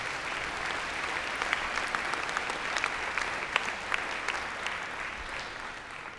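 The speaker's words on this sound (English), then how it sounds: "So give yourselves a big round of applause." An audience at a talk on organizational culture claps steadily and thickly, a sustained wash of many hands at moderate distance with no voices over it.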